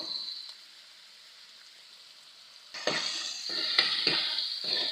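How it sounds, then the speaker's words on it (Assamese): Salted tomatoes cook in a pan over a low flame for an egg masala curry. After a quiet start, loud sizzling swells in close bursts through the second half. "নিমখ ছটিয়াই দি বিলাহীখিনি অকণমান ল' ফ্লেমত সিজাই থাকিব।"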